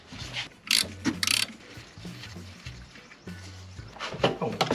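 A ratchet wrench clicks in short repeated bursts while loosening a nut on the alternator of a neglected luxury SUV, with uneven pauses between strokes and some metallic clanks, close up.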